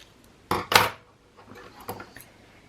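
Scissors cutting fine lace and double-sided tape for a Stamperia Lilac scrapbook album: two close, crisp snips followed by quieter, lighter clicks and rustles, with no talking.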